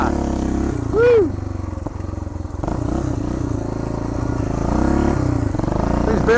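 Powroll-built 412cc engine of a 1975 Honda Redline motorcycle running just over idle, a close, loud, lumpy rumble with a brief rev and some clatter, while a voice calls out over it.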